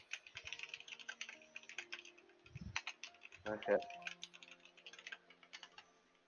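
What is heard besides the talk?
typing on a computer keyboard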